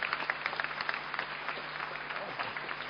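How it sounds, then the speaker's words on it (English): Audience applause for a speaker at an Android developer workshop in Milan: a moderate patter of many hands clapping in a room, fairly even throughout, with faint voices underneath. "Another round of applause for Rich."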